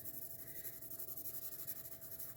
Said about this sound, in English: then you can just go over it really dark with the black marker